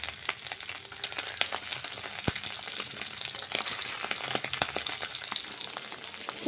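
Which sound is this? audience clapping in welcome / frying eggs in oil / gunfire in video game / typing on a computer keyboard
frying eggs in oil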